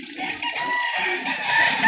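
Rooster at a chicken market in Calauan, Laguna, lets out a clear, close crowing call with bright harmonic tones, heard alone for about two seconds.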